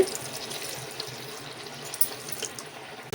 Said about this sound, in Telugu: 2 గ్లాసులు వాటర్ పోసుకోవాలి.